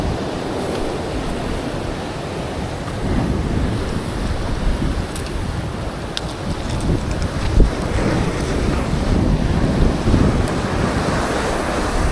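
Strong wind blows across a rocky seashore during fishing, a loud steady roar with gusts and surf noise buffeting the microphone, no talking.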